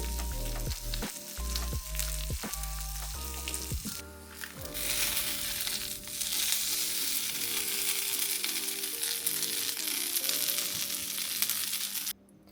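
Instant ramen is pressed face down into a hot pan, with a few close clunks at the start giving way to a loud, steady sizzle and crackle of frying that runs until it cuts off near the end, with no talking.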